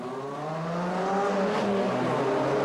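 Chevrolet Cruze race cars roar off the grid at the start of a four-hour race at Oschersleben, several engines rising together in pitch as they accelerate, loud and sustained with no talk.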